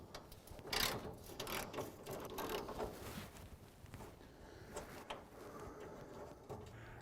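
A hand ratchet clicks in short bursts while a front fender bolt is backed out on a Mustang, faint and close, with scattered knocks and handling noises between the bursts.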